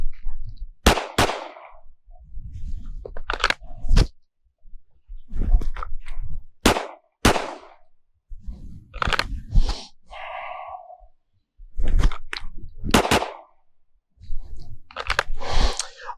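Several sharp, loud shots fired at a target outdoors, a gun review setting, come in separate bursts with quiet gaps between them, each crack followed by brief echo and rustling handling noise.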